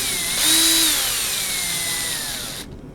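A cordless power drill whirs briefly, driving a screw into a storm door latch, rising in pitch for about half a second and then running steadily close up before cutting off abruptly.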